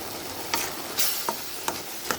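A spoon stirs salted chutney in a hot pan, giving a few evenly spaced scraping clicks over a constant soft sizzle, close and alone.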